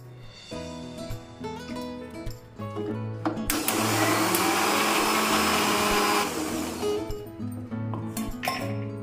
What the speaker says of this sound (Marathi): त्यामध्ये आपण आता लसूण, अद्रक, कोथिंबीर टाकून हे सगळं बारीक करून घेऊया.